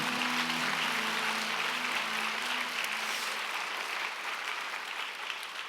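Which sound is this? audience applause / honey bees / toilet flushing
audience applause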